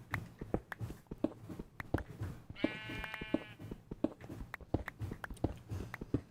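Sheep bleating in Minecraft, a single wavering bleat in the middle amid a steady run of close footsteps and scraping block noises, fairly quiet overall.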